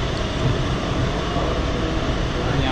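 A Taipei metro train runs with a steady, loud low rumble and broadband hiss heard from inside the car, constant and unbroken throughout, with no clear voices.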